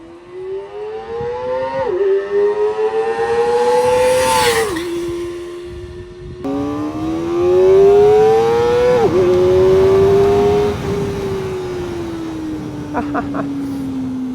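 A Kawasaki ZX-4RR sport bike accelerates hard, its high-pitched engine screaming loudly up through the gears, each climb broken by a brief dip at the shift, over roughly a dozen seconds of sustained revving.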